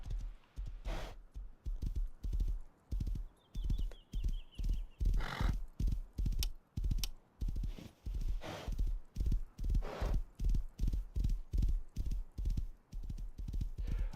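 Horse hooves clip-clop in a steady rhythmic gallop across a Rust survival game world, with a brief whinny and snorts; the beat is loud and continuous throughout.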